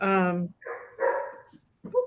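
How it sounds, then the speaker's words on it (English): A dog barks and yelps in a few short, loud bursts close by, with pauses between them. "My dog's gonna bark."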